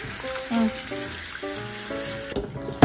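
Cold tap water runs over fruit being rinsed in a sink for vin chaud, a soft continuous splash and trickle that briefly swells, with faint tonal background sounds.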